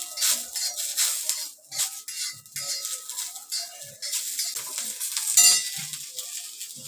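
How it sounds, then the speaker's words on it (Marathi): Whole spices roasting in hot oil for a boiled-egg curry, a bright crackling sizzle broken by scraping stirs and a few metallic clinks of a spoon against the pan, with no talk. "आता एक खडे मसाले घालते हे खडे मसाले घातले आणि आता हे सगळं भाजून घेते मी"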